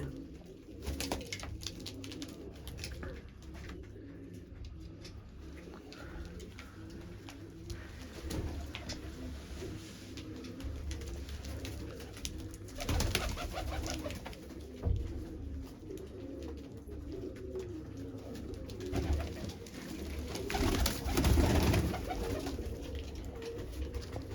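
Large pigeons, several breeds, coo continuously in a loft or coop, with low rolling coos overlapping at close range against steady background noise and no talking.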